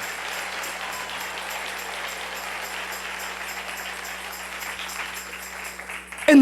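A church congregation applauds in sustained, moderately faint clapping that runs evenly for several seconds beneath a steady low hum.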